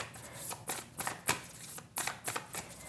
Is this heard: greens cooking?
no